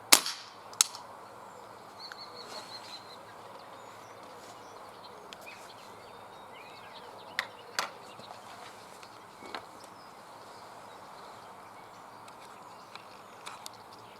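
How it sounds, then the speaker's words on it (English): Kral Empire XS .22 air rifle fired outdoors on a 28-metre range, giving a sharp crack at the start followed by a few fainter clicks and knocks over quiet ambient background with faint birdsong. "Just fire the action off."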